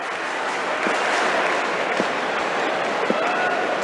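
Australian fans in a cricket crowd at a T20 World Cup match against Ireland cheer, a steady broad roar of crowd noise with a few sharp claps and thuds scattered through it.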